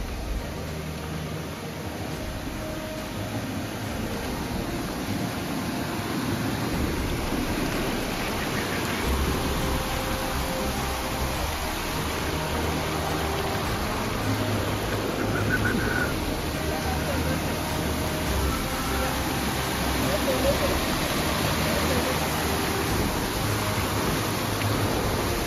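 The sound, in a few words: small waterfall with fast-flowing water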